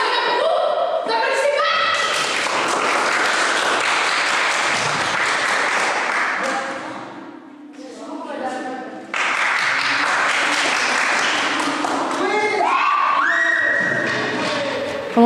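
An audience claps and cheers for a ghost singer performing in the chapel room of a haunted escape game. The clapping is dense and sustained, mixed with shouts and voices, and briefly thins near the middle before surging back.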